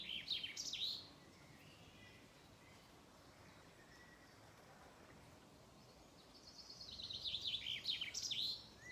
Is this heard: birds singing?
yes